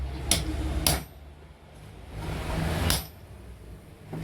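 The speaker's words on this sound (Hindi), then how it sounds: "तो सभी हमें इन छेदों में डालकर ऊपर से ठोक देना है" A hammer drives rivets into the bush holes of a cooler motor during a repair. Three sharp, close blows land irregularly, with quieter handling noise between them and no speech.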